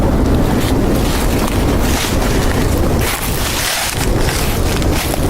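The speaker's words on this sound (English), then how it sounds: "It's pretty windy today." Strong, steady wind roars over the microphone outdoors in a wooded creek bottom among trees, a continuous loud rush with brief lulls and no voices.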